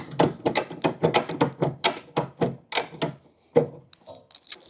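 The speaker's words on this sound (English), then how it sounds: "We can go ahead and ratchet our strap away." Tie-down strap ratcheted tight across a fuel tank in the bed of a 2022 or later Toyota Tundra, producing a fast series of close, sharp clicks that slow near the end, followed by a few lighter taps.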